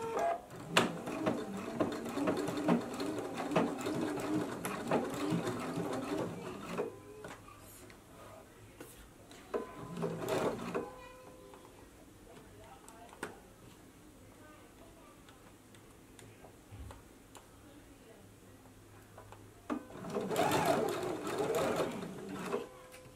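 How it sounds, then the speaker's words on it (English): A sewing machine stitches bias binding onto a gathered blouse at a half-inch seam, running in two loud bursts of rapid ticking at the start and end, with a brief spurt in the middle and quiet handling between. "So now we can go ahead and stitch our binding in place at a half an inch seam allowance"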